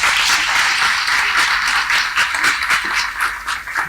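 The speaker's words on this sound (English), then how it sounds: "I think it deserves a big round of applause all over again." An audience at a G20 summit event honouring the film RRR breaks into applause, a bright, sustained wash of many hands clapping that fills the whole stretch with no voices.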